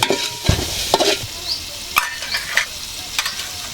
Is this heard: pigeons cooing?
no